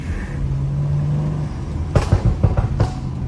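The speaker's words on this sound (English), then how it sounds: "Like you're going faster, it will pop longer, like that one just now." A BMW with a pops-and-bangs burble tune drones along, then lets out a rapid string of sharp exhaust crackles and bangs during a drive, heard close from inside the car.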